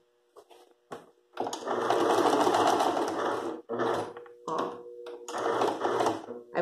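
A sewing machine runs in loud, sustained bursts as it stitches a hem on a fabric dish towel, stopping and starting several times with brief pauses between runs.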